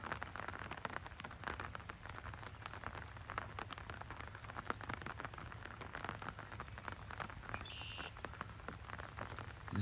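Rain falls steadily on a pastoral stretch of the Appalachian Trail, a soft continuous patter and hiss that stays faint and even throughout with no voices.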